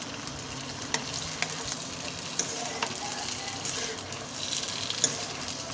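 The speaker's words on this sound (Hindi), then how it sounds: "अब इसमें डालेंगे हम भिंडियाँ। इनको अच्छी तरह घी में भून लेंगे।" Okra sizzles and fries in hot ghee for Perfect bhindi, with steady crackling throughout and occasional scraping clicks as it is stirred in the pan, fairly close and with no voices.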